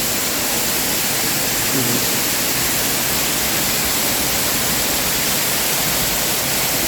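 Mae Sawan Noi waterfall in Mae Sariang pours in a dense, steady roar of falling water, close and loud, unbroken for the whole stretch with no voices.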